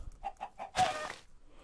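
A chicken clucks in three short evenly spaced clucks, then gives a louder, longer drawn-out squawk, close and alone against a quiet background.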